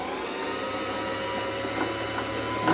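An electric sewing machine winding a bobbin gives a steady, close motor whir with a continuous even hum and a few faint clicks near the end.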